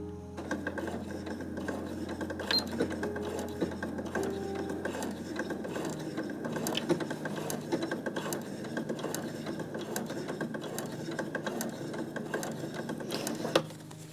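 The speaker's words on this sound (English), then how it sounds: "put your needle down, because you are going to need to stop often, and then start sewing." A sewing machine runs steadily, stitching a flat felled inseam on a pair of trousers, with an even mechanical clatter at close range and brief pauses and restarts.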